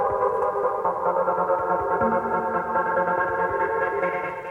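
Trance music plays steadily over a Bentley Bentayga W12's surround sound system, a dense layered wash with a low, thumping undertone and no voices.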